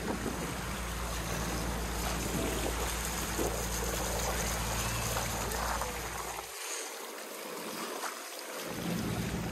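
A sailboat motors across a calm sea on a windless Costa Rica to Panama passage, with a steady engine drone and water rushing along the hull, briefly interrupted by a low-end dropout before the rumble returns.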